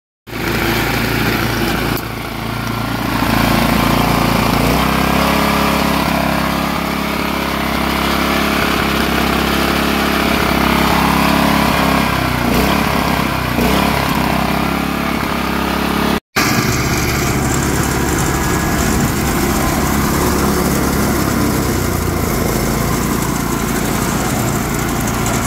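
A small engine on a small square bale chopper, its carburetor just reassembled, runs continuously while chopping a bale, close and loud, with a steady buzzing drone that shifts pitch slightly partway through and a brief dropout near the middle.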